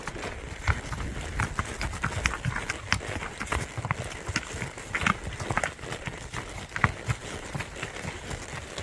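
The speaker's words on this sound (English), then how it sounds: "Got Maverick, our stud horse, gaiting off" Horse hooves clip-clop in a quick, even gaited rhythm on hard ground, close by, with faint outdoor background and tack rattling.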